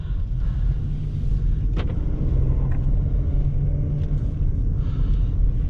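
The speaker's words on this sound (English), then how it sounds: "So all right guys, heading out in this 2021 Ford Bronco Sport." A 2021 Ford Bronco Sport Big Bend with a 1.5L engine pulls away, its steady low engine rumble and road noise holding close and even throughout, with no voices.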